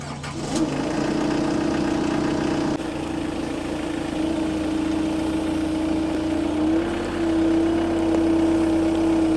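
A John Deere 326 TeleLift loader's engine cranks and catches, then settles into a steady, even diesel idle with a constant drone, close and fairly loud.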